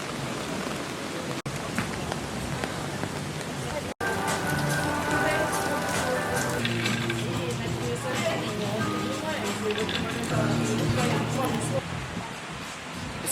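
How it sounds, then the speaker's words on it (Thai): Heavy rain pours down in Phuket, a dense, loud, continuous hiss of drops on surfaces that fills the whole stretch, with people talking over it. "ฝนตกแรงมากอาจจะไม่เห็นแต่ว่าตกแรงจริงๆ"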